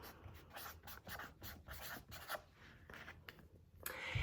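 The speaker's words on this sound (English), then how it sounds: "So I'm going to write the noun" A pen scratches across paper as the word pickles is written, producing short rubbing strokes in quick bursts, quiet and close with no talking.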